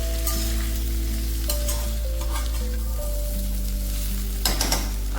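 Kathiyawadi-style stuffed okra curry with masala frying in a pan: a loud, continuous sizzle and crackle close up, with a few faint stirring scrapes near the end and no speech.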